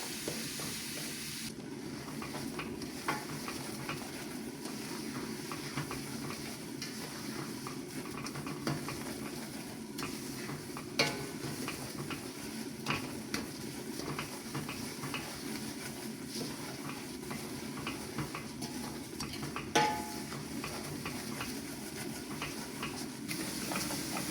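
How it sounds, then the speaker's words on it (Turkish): Halva being stirred and roasted in a pan until it changes colour, heard as a steady soft sizzling hiss with faint scraping of the spoon and occasional light clicks, with no voices. "Rengi dönene kadar kavuracağım."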